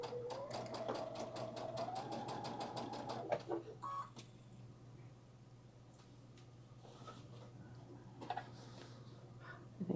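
A sewing machine stitches a dress seam in quick regular bursts for a few seconds, then stops, leaving soft handling clicks and light rustles over a low steady hum.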